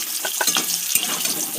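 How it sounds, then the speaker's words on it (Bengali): Potatoes frying in hot mustard oil for a chicken dish, a close, crackly sizzle with spattering pops and scraping stirs across a short moment. "আলুটা ভাজা করে নেব"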